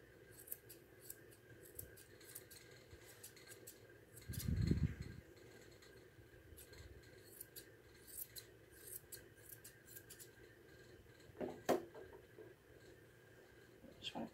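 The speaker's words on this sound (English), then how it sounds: "Just want to barely trim that and blend up into this region." Scissors snip at a standard poodle puppy's long coat, tipping and blending the hair with a few faint close clips and one louder burst of handling noise.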